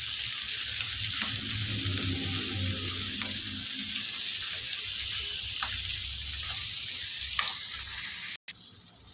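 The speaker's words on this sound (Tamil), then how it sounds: "இந்த தக்காளி நல்லா வதங்கி வரட்டும்" Tomatoes and onions sizzle steadily in a hot pan, a continuous crackling hiss with occasional stirring scrapes, ending in a brief cut of silence.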